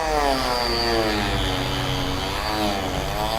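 A power tool runs at low speed while cutting away plastic under a car's rear bumper to retrofit a rear-view camera. It makes a continuous close buzzing drone with a wavering tone and no pauses.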